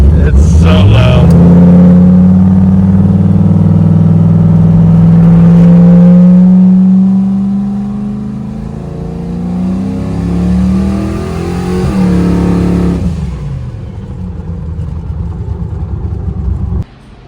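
A 1999 Chevrolet Camaro drag car revs hard nearby, its engine note climbing and holding loud for several seconds before easing off and dropping away, with a voice briefly audible.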